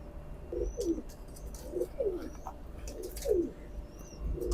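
Teddy pigeons cooing, a male and a female, in repeated low rolling coos at a steady rhythm, fairly close, with faint higher chirps and background hiss.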